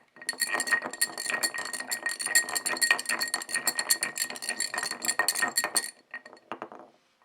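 A metal spoon clinks and taps repeatedly against a glass, a dense run of bright ringing strikes that carries on for about six seconds before trailing off, with no one talking.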